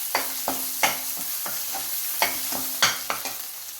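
A spice paste is stirred into a sizzling golden tempering in a pan for a bottle gourd pickle, with rhythmic spoon scrapes and taps over a soft, constant sizzle, close up and without talk.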